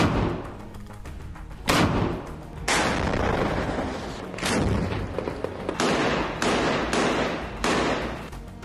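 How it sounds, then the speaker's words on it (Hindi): Rocket-propelled grenade launcher fired at an Israeli army vehicle in Gaza fighting, with a series of loud, sharp blasts and booms spaced a second or so apart over a continuous rumbling, noisy background, no speech. "अल-कुद्स के लड़ाके रॉकेट लॉन्चर से इजरायली सेना के वाहन पर हमला कर रहे हैं"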